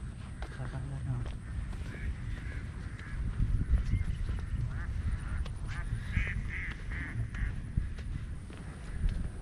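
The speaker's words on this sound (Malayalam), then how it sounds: "പിന്നെ അക്കരെ സൈഡിൽ കുറേ താറാം കൂട്ടം കിടന്ന് വെച്ചുണ്ടാക്കുന്നുണ്ട്, അതിൻ്റെ സൗണ്ട് കേൾക്കുന്നുണ്ട്." A flock of ducks calling from across a river, faint and distant quacking in a lively outdoor setting, with a person talking over it in the foreground.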